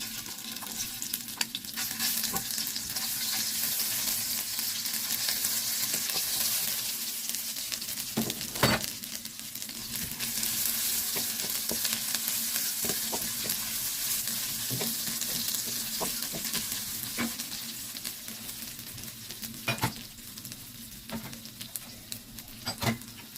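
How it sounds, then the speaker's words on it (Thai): Curry paste is stir-fried in a wok for a seafood stir-fry with squid and shrimp, giving a continuous bright sizzle with scattered scrapes and taps of a utensil throughout. "ใส่พริกแกงลงไปผัดเลยค่ะ"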